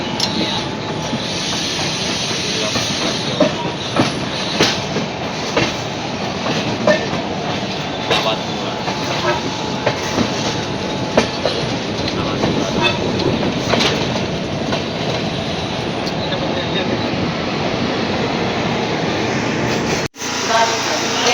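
An AC three-tier coach of the Kumbh Express rumbles steadily into Moradabad Junction with clickety-clack wheel noise and occasional squeals, loud and close from inside, with talk faintly underneath.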